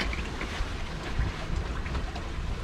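Steady wind rushing across an open microphone on a sailboat on a flat river near Tadoussac, a constant broad whoosh with low rumbling gusts and no voices.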